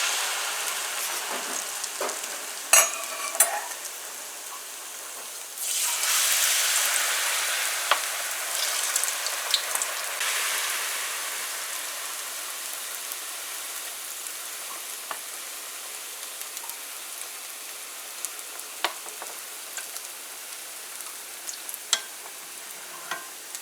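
Chicken balls frying in hot oil, a steady bubbling sizzle that swells loudly partway through, with occasional clicks and taps of a utensil, close up.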